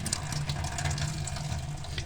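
Water drips and trickles in a steady stream as grated radish is squeezed by hand, close and continuous, with no talking.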